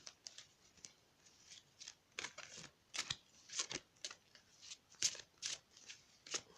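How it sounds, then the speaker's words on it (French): Tarot deck being shuffled by hand, a stiff deck that is hard to mix, giving quiet, rapid papery riffles and flicks in irregular bursts, close and alone with no voices. "C'est un jeu qui est vraiment pas facile à mélanger"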